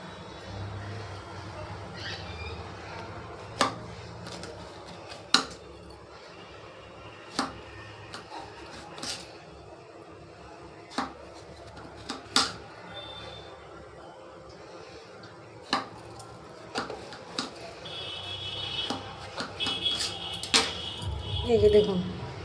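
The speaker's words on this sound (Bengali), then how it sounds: "আবার একটা কেটে দিচ্ছি" A knife cutting eggplant on a board, giving quiet, sharp taps spaced a few seconds apart, close and soft, while a voice talks faintly in the background.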